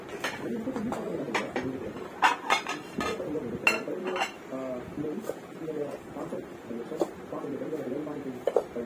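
Plates, bowls and cutlery clink in scattered sharp taps as a home meal of curry and yogurt is served onto plates, while people talk quietly underneath.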